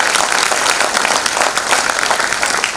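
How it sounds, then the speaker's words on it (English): Sustained audience applause at a talk with an Indian Army lieutenant general, dense steady clapping filling the space, loud and continuous throughout. "Let us give a round cheer applause for that."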